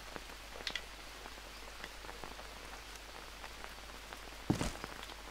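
Steady rain falls in the jungle survival game Green Hell, a continuous soft patter across the whole stretch with a brief louder splash or rustle near the end.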